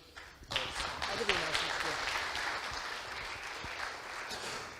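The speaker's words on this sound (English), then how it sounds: "big round of applause" Applause from a conference audience at a Bitcoin event, swelling quickly into sustained dense clapping that holds steady and slightly fades, heard at a moderate distance.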